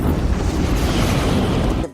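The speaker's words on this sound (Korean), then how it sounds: "순식간에 발생한 폭발에" A dense, roaring blast from a movie's White House attack scene, filling the whole clip with a loud sustained rumble before cutting off abruptly at the end.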